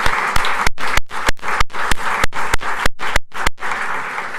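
Audience at a League of Women Voters candidate forum applauding the two candidates, a dense steady round of clapping with sharp individual claps standing out near the microphone, no talk.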